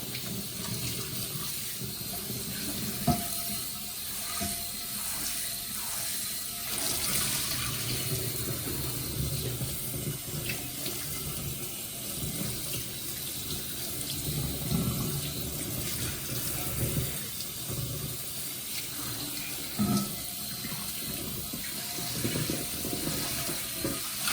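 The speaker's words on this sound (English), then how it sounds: "Just rinse that off. I'm going to rinse all the soap off." Tap water runs steadily over cast iron cookware to rinse off soap, a continuous splashing stream with small clatters and shifts as the pan is moved under the flow.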